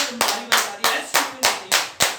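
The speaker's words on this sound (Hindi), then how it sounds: "जोरदार ताली बजाओ" An audience at a motivational talk claps loudly and in unison, with about seven sharp, evenly spaced beats close by.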